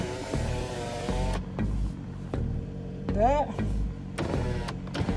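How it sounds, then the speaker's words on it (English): A car's power window motor whirs steadily as the glass moves, with a brief squeak partway through. It sounds nearby inside the vehicle, and a person talks over it. "this is a power window"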